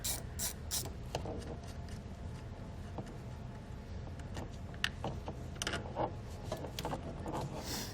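A 10mm wrench works a battery cable nut loose on a 2019 Ford Explorer, making faint, repeated clicks and scraping metal sounds close by with no talking.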